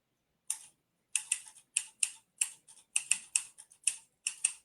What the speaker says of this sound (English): Typewriter that you actually had, like when I took typing in high school, you actually had to really push hard on those keys.